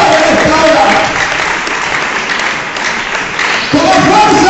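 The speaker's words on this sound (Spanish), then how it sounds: "Un aplauso para Él esta mañana." Church congregation applauding during a service, a dense roar of clapping that dips in the middle and swells again, with voices shouting over it.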